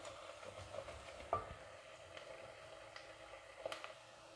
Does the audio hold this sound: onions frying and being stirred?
yes